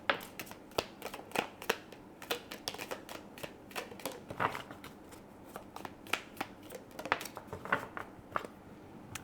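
Tarot cards being shuffled up close, a steady run of quick papery riffles and snaps with no talking.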